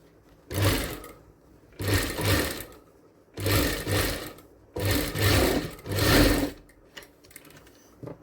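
Sewing machine stitching a designer blouse, running in five loud bursts of a couple of seconds each, separated by brief pauses, with no talk over it.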